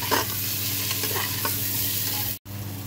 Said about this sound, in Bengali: এই যে চিকেনগুলো একসঙ্গে ভালো করে নাড়াচাড়া হবে।